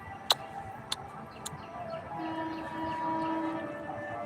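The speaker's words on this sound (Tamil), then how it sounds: "இந்த ட்ரெயின் போகுது பாருங்கள்" A train passing by, with sustained horn-like tones swelling over a low rumble and a few sharp clicks near the start. No one talks.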